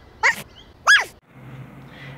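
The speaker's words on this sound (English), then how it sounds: "The sound you just heard is that of Bingo the Wonder Dog" A dog gives two sharp, loud barks close to the mic, about half a second apart, followed by quiet background noise.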